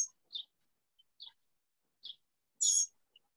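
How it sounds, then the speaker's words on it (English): Birds calling outdoors during an open-air painting session: a few brief, bright chirps spaced about a second apart, then a slightly longer call, all fairly faint against a quiet background with no talk. "I love that we've got birds in the background"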